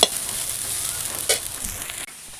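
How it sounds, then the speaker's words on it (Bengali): Snake gourd fries in a pan with a steady close sizzle, a louder burst of hissing midway, and occasional stirring scrapes before it cuts off. "এই দেখো চিচিঙ্গে ভাজা হচ্ছে"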